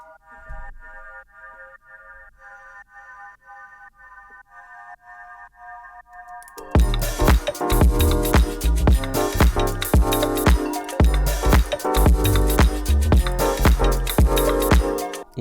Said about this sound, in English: I added this labs with the preset Ghost handbells. I just took the chords from the piano sound and I stretched them out